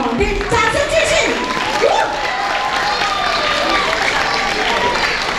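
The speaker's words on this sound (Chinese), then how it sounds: "掌声不要停啊，为什么？ 掌声继续。" An audience at an Atayal church Christmas event in Wulai keeps up sustained applause and cheering, with voices rising through the crowd noise.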